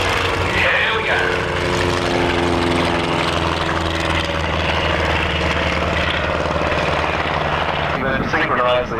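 A Fokker triplane and an SE5A biplane in a mock dogfight at an airshow at Matamata Airfield, their propeller engines droning loudly and steadily overhead for several seconds, with a commentator talking over the noise.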